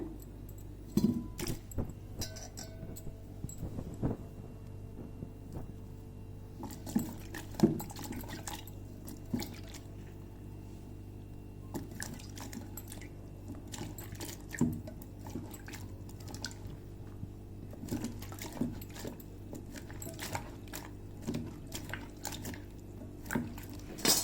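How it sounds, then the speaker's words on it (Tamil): Bitter gourd being washed by hand in water for a bitter gourd thokku: soft irregular splashes, drips and squishy rubbing sounds, with occasional light clinks of a vessel, fairly close over a steady low hum. "பாவக்காய் பாருங்கள், நல்லா கழுவி எடுத்தாச்சு."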